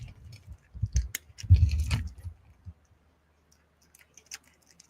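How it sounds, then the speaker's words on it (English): A dog crunches and chews a big handful of treats close to a lowered microphone, a dense burst of crunching for about two seconds, then a few faint scattered clicks as bits spill onto the floor. "Should we bring the mic down for the crunching ASMRs?"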